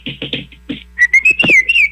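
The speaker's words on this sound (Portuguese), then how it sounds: "O passarinho da morte, quando morre bandido, faz aquele barulhinho bonito, ele assobia bonito" A clear whistled melody, bird-like rising and warbling notes, used as a sound effect for the 'bird of death', close and loud with short chirps leading into a sustained wavering whistle.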